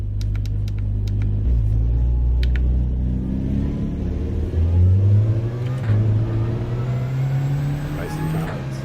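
Racing car engine in a racing video game, a deep rumbling drone that rises and shifts pitch as it revs, loud and continuous, with a few faint clicks on top.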